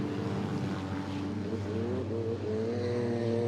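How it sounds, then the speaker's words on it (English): Race cars hold full throttle in a gold cup race, engines droning with steady rising and shifting pitch, loud and continuous, several cars blending together without commentary. "Just keeping the throttle down on these cars."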